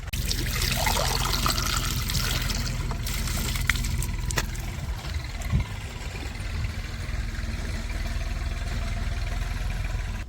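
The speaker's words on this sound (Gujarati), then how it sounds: "તો હવે ને પેલા આપણે પાણી પી લઈએ." Water trickles and pours in a farm field, a soft continuous splashing with a few sharper drips, heard over a low steady engine drone from a nearby motor.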